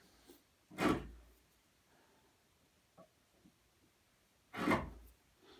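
A chisel pares across the end grain of a wooden workpiece along a scribe line, giving two separate rough, rasping shaving strokes a few seconds apart, close and fairly loud, with faint taps in between.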